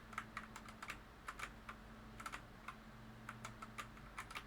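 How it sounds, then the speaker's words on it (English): Typing on a keyboard fitted with silent key switches, soft irregular clicks in quick bursts with short pauses, close and quiet over a low hum. "I have two different types of quote-unquote silent keys"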